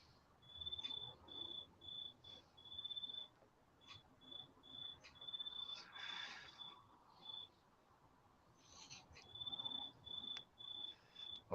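Crickets chirp in the background, in rhythmic bursts of shrill trills broken by short pauses. They are moderately faint, with no talking.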